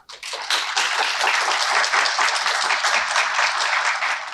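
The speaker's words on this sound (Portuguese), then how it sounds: "A plateia se despede com aplausos." An audience bidding farewell with sustained applause at the close of a talk, dense clapping from many hands holding steady and loud for several seconds.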